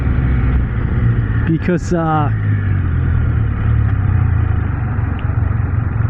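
A Can-Am Spyder F3 three-wheeler engine revs up in a quick rising sweep of pitch over a steady riding drone and wind, with a rider talking briefly during the ride.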